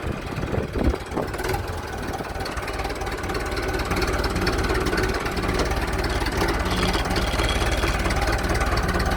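A Sürüngenli 265 S tractor engine idles steadily with a low, rumbling throb and a mechanical knock, continuous and close, with no voices.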